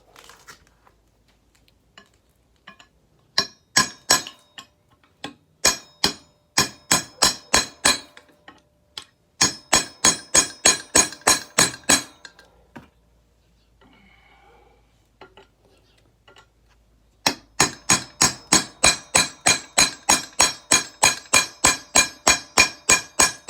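Hammer beating a chisel against the rear axle of a Nissan Titan, landing as loud ringing metallic strikes in rapid bursts of repeated blows separated by short pauses, close and with no talking.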